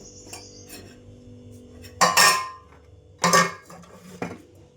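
Pots and metal vessels clatter as they are handled and set down during household cleaning: two loud, close clanks with a smaller knock after them, and quiet gaps in between.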